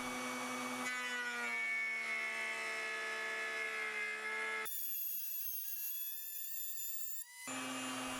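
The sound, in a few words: router with small T-slot bit cutting wood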